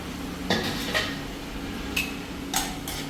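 A utensil scrapes and clinks against a pan while onions and tomatoes are stirred and sautéed in oil, a few sharp metallic taps spaced apart over a low background hum.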